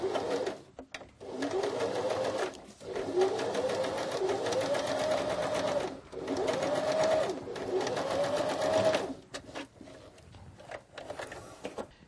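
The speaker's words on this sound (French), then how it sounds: "Maintenant, je vais piquer à 1 cm des bords sur les deux côtés." A domestic sewing machine stitches the sides of a fabric lingerie pouch, running in steady rhythmic bursts of several seconds with short pauses between them, close and clear with no talk.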